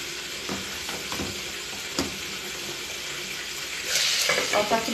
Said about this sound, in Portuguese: Ó, tá fritando aqui,